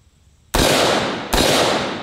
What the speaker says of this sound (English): this is the Daniel Defense Mark 18 AR pistol